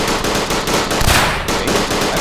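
Rapid gunfire from a rifle in the World War I shooter Verdun, a dense, loud, continuous burst of overlapping shots with no talk.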